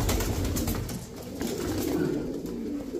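Fancy breed pigeons in a loft or market coo steadily and close, a dense, continuous murmur of several birds over a low background rumble.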